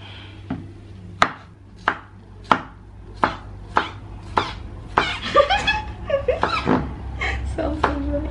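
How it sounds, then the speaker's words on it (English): A knife chops through food on a board at home, a row of sharp, evenly spaced thwacks close by, followed by quicker irregular cuts mixed with laughter. "let me show you how to chop"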